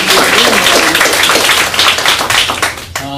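Dense applause from a crowd at a ribbon-cutting ceremony, steady and loud for about three seconds before tapering off at the very end.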